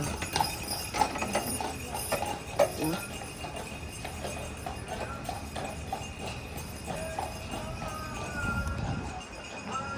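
Horse hooves clip-clop steadily on a street in Canada, heard amid busy outdoor ambience and people talking nearby, with the horse sounding moderately close throughout.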